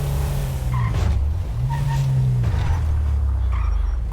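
A car engine idling and revving inside the GTA V game, with a low steady drone that rises and falls in pitch over about four seconds, plus faint tire squeaks and creaks.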